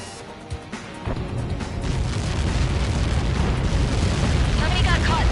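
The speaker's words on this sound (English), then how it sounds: "How many got caught in that explosion?" A massive explosion in the flight combat game Ace Combat 7, a deep sustained rumbling blast that builds and rolls on, with radio voices talking over it.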